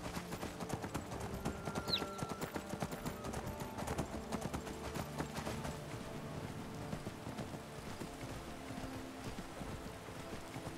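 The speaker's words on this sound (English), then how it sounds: "Greta, I found another horse, but don't worry, I won't sell you." In the Skyrim video game, a horse's hooves clip-clop in a quick, steady rhythm, close and continuous, while rain patters in the background.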